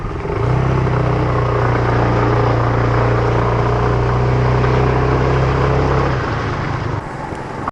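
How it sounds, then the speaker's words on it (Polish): A motorbike fires up on the first kick and runs at a loud, steady, rumbling idle close by for about six seconds, then its note drops away as the engine cuts. "Zapala od pierwszej kopki."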